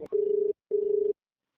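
A phone call's ringback tone sounds twice, each a steady, clean, mid-pitched burst of about half a second separated by a short gap, then silence, with no voices.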